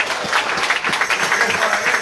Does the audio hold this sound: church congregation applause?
yes